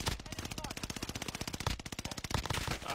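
Guns fire in the video game Warzone, a continuous fast automatic stream of evenly spaced shots lasting the full three seconds, fairly close and steady.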